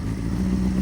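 A Honda CBR600RR motorcycle engine idles steadily nearby, a low throbbing rumble with a faint hum on top, running continuously and fairly loud.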